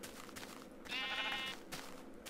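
A single sheep bleats in Minecraft, one wavering, nasal call of about half a second, fairly close and clear against a quiet background.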